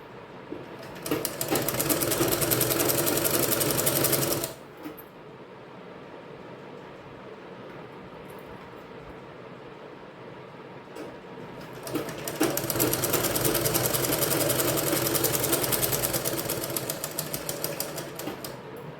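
A sewing machine runs in two steady, fast-clattering bursts while stitching a blouse, a long run at the start and another near the end with a quieter pause between, and no voices.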